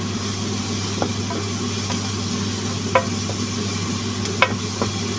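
Ingredients for papaitan with beef cook in a pan, a steady low sizzle under a constant hum, with occasional light clicks and scrapes of stirring.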